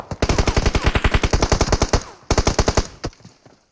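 Loud, close automatic gunfire in PUBG Mobile: a rapid burst of shots, a brief pause, then a second shorter burst that stops abruptly.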